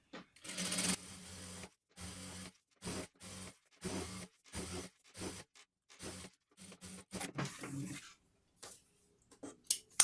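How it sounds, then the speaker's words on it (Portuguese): A sewing machine topstitches a satin-trimmed sweatshirt, running in short, close bursts of rapid stitching separated by brief pauses, with a few light clicks near the end. "Vou fazer mais um com pezinho de máquina"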